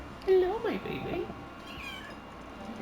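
A house cat gives a short rising-and-falling meow near the start, followed by softer trailing sounds, with light background noise and no clear speech.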